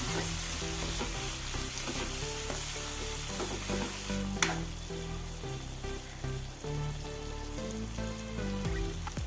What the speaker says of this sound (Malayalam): തക്കാളി വേകാൻ വേണ്ടി തക്കാളി ഒന്ന് ഉടച്ചു കൊടുക്കാം